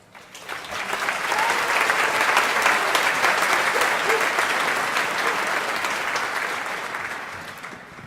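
A commencement crowd applauds the graduates with loud, dense clapping that swells in over the first second, holds steady, then eases off slightly toward the end.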